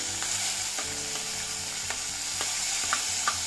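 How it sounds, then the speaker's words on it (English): Four chopped medium tomatoes hiss and sizzle in a hot pan for South Indian tomato rasam, with a continuous frying crackle and several sharp spoon scrapes as they are stirred, close and without speech. "Now we have to add the chopped tomatoes."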